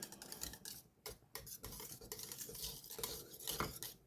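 A spoon stirring pastitsio meat sauce in a big pan, with soft metallic scrapes and thick, wet stirring noises, close but faint and steady for a few seconds.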